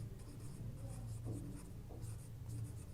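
Chalk or marker scratching steadily across a board during a geometric progression lecture, a continuous close scraping texture with small strokes throughout and no talk.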